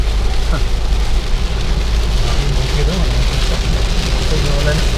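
Rain falling in Davao, a loud, continuous hiss of drops on surfaces with a deep rumble underneath, steady and unbroken from start to finish.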